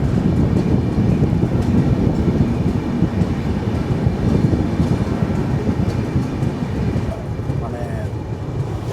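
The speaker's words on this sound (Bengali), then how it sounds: "1 নম্বর প্ল্যাটফর্ম থেকে পাস করানো হচ্ছে আমাদের সুপারফাস্ট এক্সপ্রেসকে" The Howrah–Bengaluru superfast express 12863 runs through a station on a foggy night, its loud, continuous roar and wind rush filling the whole stretch without letup.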